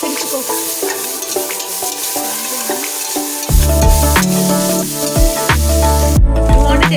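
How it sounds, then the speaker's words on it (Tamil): Spoon scraping and stirring flattened rice (aval) upma in a hot pan, with repeated clinks and scrapes over a steady sizzle that grows louder partway through. "அவல் நல்லா மிக்ஸ் பண்ணி விடு"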